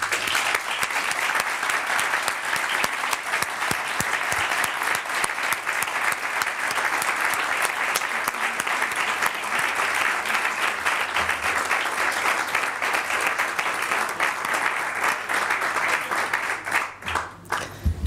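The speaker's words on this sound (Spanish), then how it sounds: "no se me ocurre mejor forma que con un fuerte aplauso" An audience gives a long, steady round of applause to honor a distinguished alumnus before an interview, with dense clapping that stays strong throughout and only fades briefly near the end.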